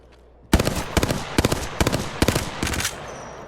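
Burst-fire weapon shots ring out in Apex Legends, six sharp loud volleys of rapid shots spaced at a steady rhythm, close and alone with no talk.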